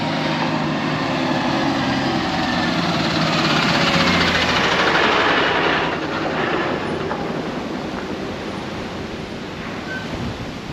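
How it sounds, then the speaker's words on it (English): Strong wind roars steadily outdoors beside a highway construction site in Europe, a loud, continuous buffeting rush that swells mid-way and then eases slightly, with no voices. "I'm gonna get blown away by this wind."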